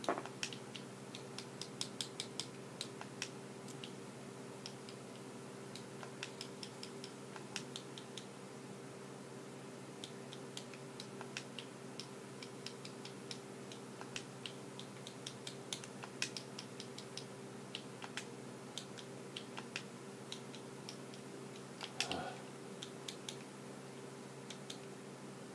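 Clicky keyboard keys typed during setup of an OnLive cloud gaming console, heard as faint, rapid, irregular clicks under a steady low hum with no talking.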